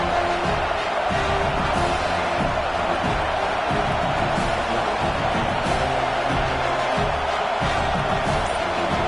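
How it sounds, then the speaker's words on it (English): Stadium crowd at a college football game just before a field goal attempt, a dense continuous roar that fills the whole stretch, with a commentator talking over it. "This crowd trying to do its part to get inside the kicker's head."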